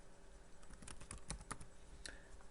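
Quick, quiet keystrokes on a computer keyboard as a terminal command is typed, a short uneven burst of clicks heard close and alone.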